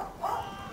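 Dogs in a Medieval 2 Total War battle give a short burst of barking, a single yelping cluster in the middle of a brief moment over quiet game ambience.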